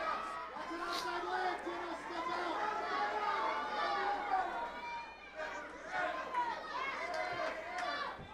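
Crowd noise at an SCL 64 women's cage fight between Jennah Macallister and Brittney Boone, a dense, steady roar of cheering and chatter from a large arena audience, with voices calling out throughout.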